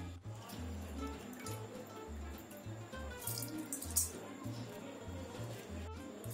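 Soaked rice drained of its water in a home kitchen while making chicken biryani gives soft trickling, splashing and squishing sounds over a steady low rhythmic hum, with a few brighter water bursts midway; quiet and close.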